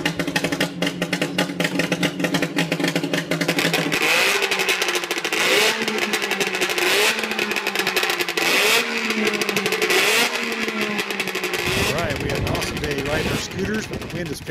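A small Doodle Bug scooter engine runs close by, its pitch rising and falling as it revs repeatedly, with someone talking over the noise.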